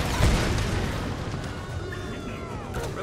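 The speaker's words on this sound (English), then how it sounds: "Eat a fucking grenade!" A grenade going off in Tomb Raider, a single sharp boom near the start that settles into a lingering rumble and scattered debris noise.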